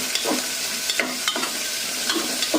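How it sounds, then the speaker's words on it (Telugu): Five or six green chillies fry in hot oil for coconut rice, giving a loud, close sizzle with repeated rhythmic stirring scrapes and knocks of a spatula against the pan. "ఇప్పుడు ఒక 5 to 6 పచ్చిమిరపకాయలు వేసాను."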